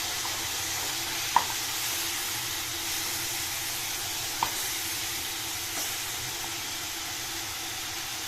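Large boiled mutton pieces frying in a pot, a steady moderate sizzle and hiss with two or three distinct clinks of a spoon stirring against the pot.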